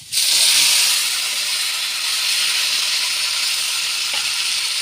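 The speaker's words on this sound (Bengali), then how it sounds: "এই যে দেখেন আমি এখানে একটু বাগার দিব, সাধারণ তেল দিই।" Onions and oil hit a hot pan for a baghar tempering, erupting into a loud, steady hiss and sizzle that starts abruptly and holds strong throughout.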